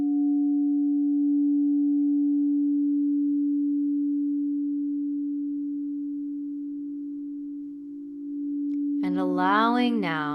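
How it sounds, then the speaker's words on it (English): Crystal singing bowls ring in a meditation room, a single pure sustained tone humming steadily for about nine seconds before a voice begins speaking over it. "allowing now the sounds of these crystal bowls to fill the room"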